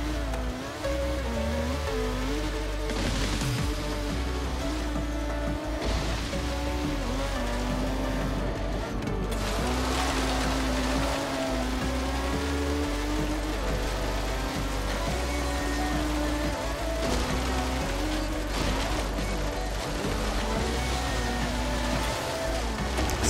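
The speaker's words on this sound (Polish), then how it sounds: "to jest Ford RS200 klasa S2" Ford RS200 class S2 car engine in the Forza Horizon 3 video game, a loud steady roar with rising and falling revs through gear changes, running continuously throughout.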